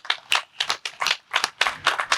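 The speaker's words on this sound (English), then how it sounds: "Let's give another round of applause for a very special honorary degree recipient, Honorable Donald Remy." Applause for an honorary degree recipient at a spring 2022 commencement comes as a brief run of fairly distinct, evenly paced claps, moderately quiet, with no voices.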